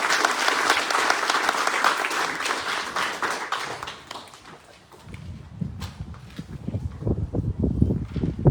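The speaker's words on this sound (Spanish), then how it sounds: "Un aplauso para ella, por favor." An audience at a book presentation applauds warmly. Dense clapping rings out for about four seconds, then fades away, giving way to quieter, lower knocks and shuffling sounds.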